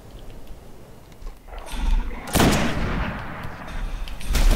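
Two sharp, loud sniper rifle shots in the video game Destiny, each a sudden crack with a rumbling tail, spaced a couple of seconds apart over low game ambience.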